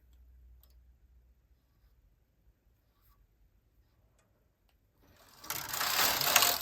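An SK150 bulky knitting machine carriage makes a loud rasping, clattering sweep across the needle bed near the end as it knits a felted slipper. Quiet clicks and handling noises come first.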